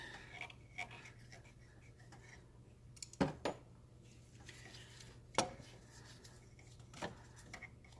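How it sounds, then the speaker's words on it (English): Metal clamps on the turbo coolant hose of a Subaru Forester are worked loose, giving a few sharp, close clicks and clanks over a quiet background. "I'll remove these clamps"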